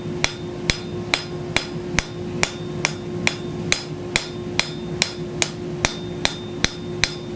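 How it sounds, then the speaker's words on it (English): A blacksmith strikes a forged steel feather bowl with a hammer in a steady rhythm of sharp metallic blows, roughly two per second, ringing close and loud over a constant low hum. "I just want to work right up to it."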